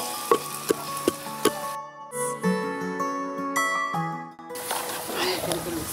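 Mango pieces are dropped into hot frying oil while a shellfish and odika dish is prepared. A few sharp clicks and some ringing metallic tones come first, then a soft, hissing sizzle rises near the end.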